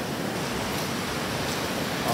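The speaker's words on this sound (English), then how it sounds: "I had to get out of the way of the waves, and they still are crashing in" Ocean waves surge and wash up on a beach at close range, a dense continuous roar of surf with no break and no talking heard.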